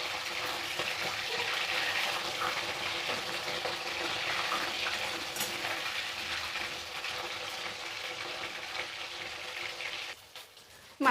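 Flipped fish head keeps frying in hot oil, a steady close sizzle and crackle that carries on evenly before briefly thinning out near the end.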